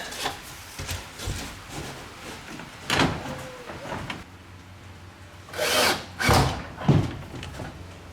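A power drill drives screws into the roof of a pop-up camper in several short whirring bursts, close by, with rubbing and handling noises of wood between them.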